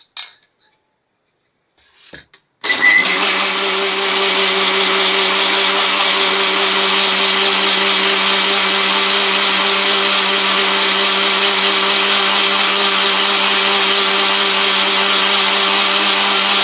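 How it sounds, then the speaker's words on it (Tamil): A mixer grinder blending milk cream into butter starts abruptly after brief quiet and runs loud and steady, a continuous high whirring drone with no pauses. "நான் இப்போ அரைக்க போகிறேன்."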